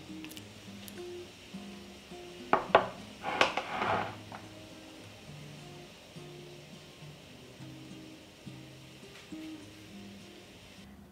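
Glass jars of canned beans with sausage are lifted out of a pot of water after three hours of boiling. A quiet watery backdrop carries a short cluster of clinks and splashes near the middle.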